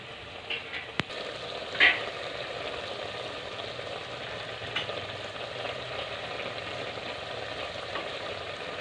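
Dried fish (tuyo) frying in a pan while ginataang puso cooks, giving a steady, soft, close sizzle with a couple of brief clinks from stirring early on and no voices.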